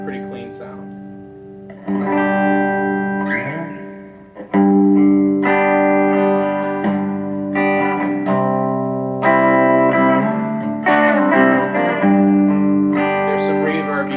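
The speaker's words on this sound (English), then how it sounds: "There's some reverb you can hear." A clean electric guitar plays through a Fender Super Champ XD amp on its clean channel with amp reverb and no pedals, sustained chords and melodic notes ringing loud and close with a lingering reverb tail.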